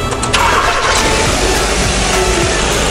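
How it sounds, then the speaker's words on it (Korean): A car engine cranks and catches right after a DIY battery replacement, then runs steadily with a rough, uneven idle. It is loud and close throughout the clip, and no one speaks. "마지막으로 시동 한 번만 걸어주실래?"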